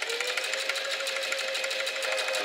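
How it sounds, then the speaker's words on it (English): Sewing machine running a zigzag stitch across shoulder straps, a steady, dense mechanical whir with a fast even rhythm held close and unbroken for a few seconds. "I'm doing a zigzag stitch."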